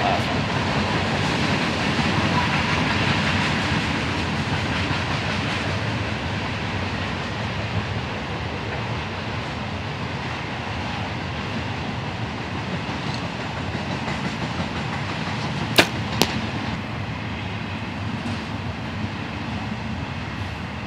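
A train rolls past with a broad steady rumble and rattle of wagons, fairly close, with two sharp metallic bangs near the end.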